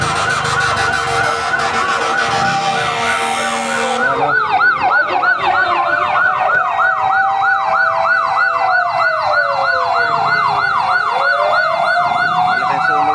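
Fire truck sirens wail as engines arrive at a large fire in Pasay: first a fast yelping siren, then a loud, steadily rising and falling wail dominating, with road engine noise underneath and no talk.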